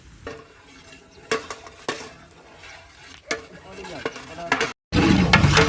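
A spoon scrapes and knocks around inside a large cooking pot of browning onions for niaz, in irregular strokes, with clinks of metal and a sizzle growing louder near the end.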